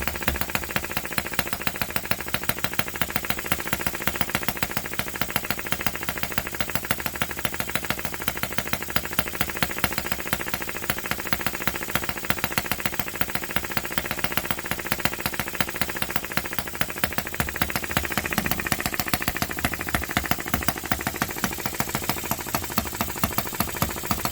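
Small vintage Japanese Yanmar gasoline model engine running continuously nearby, a loud, even, rapid knocking drone with light rattle and vibration that stays steady for the whole stretch, with no talk.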